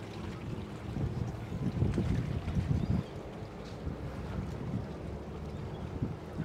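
A motorboat idles slowly out of a marina with a steady low engine rumble, mixed with wind noise against the microphone.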